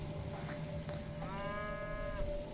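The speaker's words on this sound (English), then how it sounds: "we still consider cows as enemies, but I refuse to shoot them because cows are nice." A cow lowing in the post-apocalyptic role-playing game Wasteland 2, a single drawn-out moo of medium loudness over a steady ambient game background hum.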